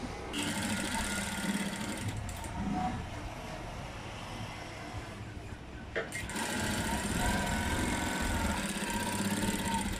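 A sewing machine runs steadily while stitching a long seam on a blouse, a continuous close mechanical whir that carries through nearly the whole stretch with only brief pauses.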